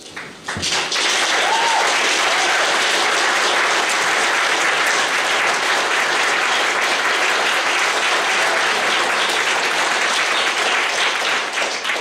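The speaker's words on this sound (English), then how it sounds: "I want to ask them to stand so everyone may give them a round of applause." Dense, loud audience applause for award nominees at the Shirley Jackson Awards ceremony at Readercon, sustained clapping from a large room that starts abruptly and holds steady throughout.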